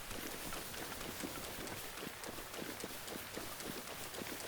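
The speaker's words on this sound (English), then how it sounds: "I don't know why it's raining so hard." Heavy rain pours steadily in the game Zelda: Breath of the Wild, a dense hiss of falling water with soft patter, faint and constant with no break.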